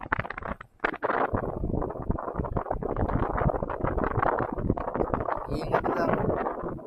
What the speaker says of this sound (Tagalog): Lakas ng hangin, hindi nyo siguro maririnig yung salita ko.